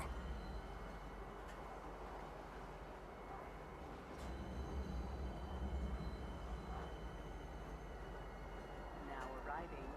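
A train in the Star Citizen video game pulls into Tisa Spaceport with a steady rumble and rolling hum under a low background, as faint station sounds and a brief chime-like tone come and go.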